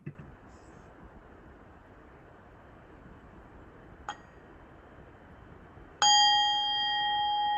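Faint hiss with a light tap, then a bright bell strike rings out near the end, its tone holding steady.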